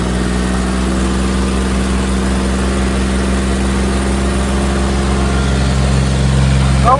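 A tractor engine idles nearby, a loud, even, low droning hum that holds steady throughout.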